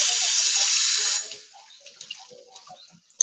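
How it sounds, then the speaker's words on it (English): Tap water runs over cabbage in a sink, a close, steady rush lasting about a second before it is shut off, followed by faint handling clicks. "So I'm just going to rinse that a little bit before I even put that in the stock pot."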